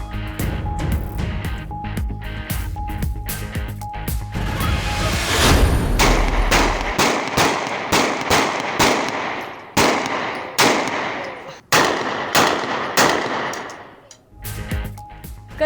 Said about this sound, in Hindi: कराची में सरेआम हवाई फायरिंग का एक और वाकया सामने आ गया।